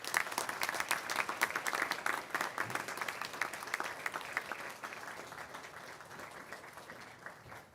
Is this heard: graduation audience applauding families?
yes